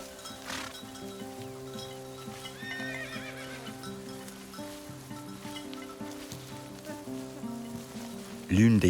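Horses at a summer camp in Kamchatka, hooves clopping and shuffling amid steady background murmur, with a sudden close, loud whinny bursting out at the very end.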